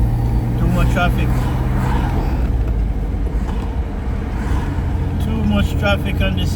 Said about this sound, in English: Much traffic on this side.